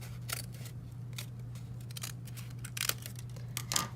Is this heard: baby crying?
no